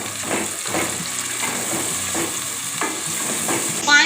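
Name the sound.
spice masala with green chilies and coriander frying in oil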